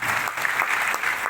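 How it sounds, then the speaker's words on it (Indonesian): Congregation clapping in a charismatic Pentecostal church service, dense continuous applause filling the room for about a second. "Beri tepuk tangan bagi Tuhan."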